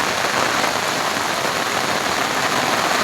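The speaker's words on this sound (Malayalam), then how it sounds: "ഭയങ്കര മഴ." Heavy rain pounds a boat out on the backwaters, a dense, loud, continuous patter of countless drops striking the surface close by.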